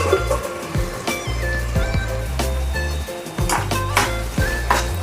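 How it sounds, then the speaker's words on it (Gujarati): Chopped tomatoes added to a pan of cooking potatoes for cabbage and potato curry: a steady, close sizzle and bubbling with occasional clinks and scrapes of a spoon against the pan. "હવે એમાં આપણે ટમાટર નાખી દઈશું"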